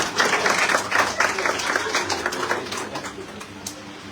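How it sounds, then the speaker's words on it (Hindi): An audience at an IMC network marketing business presentation breaks into loud, dense applause that gradually thins and fades over about four seconds. "एक बार जोरदार ताली होनी चाहिए।"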